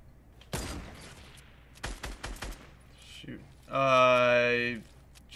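Sniper rifle fire in the video game Fortnite, a sharp loud shot early followed by a few more scattered cracks, with someone talking and a tonal game effect near the end.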